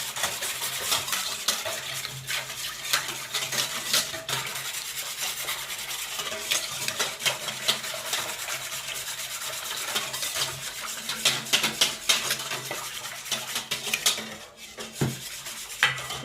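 A spoon scrapes and clinks steadily around a bowl while oil is stirred into a bread dough mixture, quiet and close with no talking.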